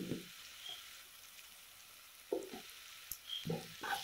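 Masala with Kashmiri chili powder and coriander powder fries in a little oil for Idukki-style kappa biryani, a soft sizzle broken by a few brief stirring scrapes, close and quiet.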